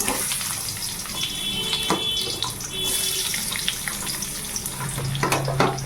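Mango pieces frying in a wok with mustard seeds and dry chillies give a steady, bright hiss of sizzling oil throughout, with occasional small clinks and pops close by.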